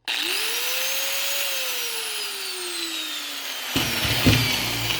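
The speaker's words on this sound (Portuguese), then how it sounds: "Quando você liga, ela já dá esse certo tranco, né?" A Makita M9510B electric angle grinder switches on with a sudden start and winds up into a steady high whine, its pitch gliding as the motor settles. Near the end, a few clunks and knocks sound over the hum.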